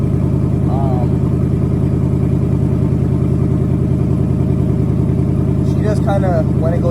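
A 2019 Ford Mustang GT with a Corsa Extreme exhaust idles after a cold start, a loud, close, steady deep burble with brief voices over it near the start and end.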